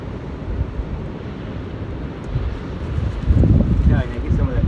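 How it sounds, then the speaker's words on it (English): Ocean surf rolls and breaks on an Australian sandy beach, a steady broadband wash that swells louder near the end, heard close with wind buffeting the microphone. "Waves come through."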